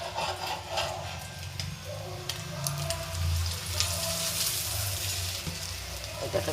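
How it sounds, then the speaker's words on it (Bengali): Three duck eggs frying in a pan, fried until reddish-brown on both sides: a steady, close sizzle and crackle runs the whole way through, with faint scraping and low background rumble underneath. "আজ আমি 3টা হাঁসের ডিম ভাজ দিচ্ছি"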